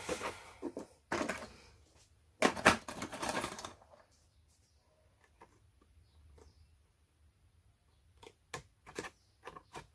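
Scissors snipping through paper for a scrapbooking card, a few sharp cutting bursts early on and again near the end, close and fairly loud, with quiet pauses between.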